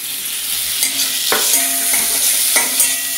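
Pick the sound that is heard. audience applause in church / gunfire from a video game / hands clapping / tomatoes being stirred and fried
tomatoes being stirred and fried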